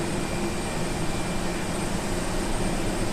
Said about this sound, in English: Let me try again to start this plane.